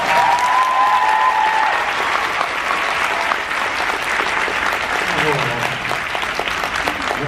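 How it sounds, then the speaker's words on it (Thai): A packed theatre audience at the premiere of a stage play gives loud, dense, sustained applause that fills the whole stretch, with a voice briefly audible over it. "ปรบมือกันอีกทีได้ไหมครับ"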